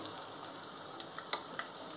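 Curry leaves and green chillies sizzle in hot oil while tempering for a tomato chutney, a steady soft frying hiss with a few light crackles and pops near the end, no voices.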